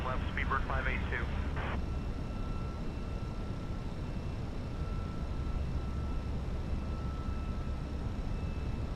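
A British Airways A320 taking off in a flight simulator, a steady loud engine roar with broadband rushing noise throughout, briefly under a radio voice at the start.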